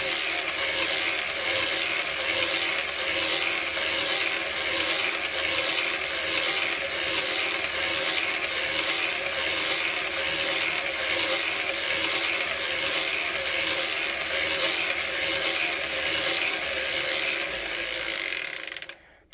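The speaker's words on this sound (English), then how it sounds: "Let's just crank this a few rows to take it off the machine" Circular sock knitting machine cranked steadily round and round, a continuous rhythmic ratcheting clatter, close and loud for the whole stretch before stopping abruptly at the end.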